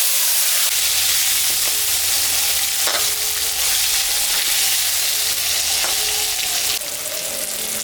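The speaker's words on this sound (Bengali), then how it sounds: "আমটা ভাজা ভাজা হয়ে গেছে" Mango pieces fry in hot oil for a rohu fish curry, a loud continuous close sizzle with occasional stirring clicks from the pan.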